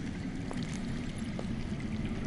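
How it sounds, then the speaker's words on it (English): Running water flowing underground in a Game of Thrones video game, a faint steady trickling gurgle with a few soft drips, heard alone. "That's water. I hear water. From underground."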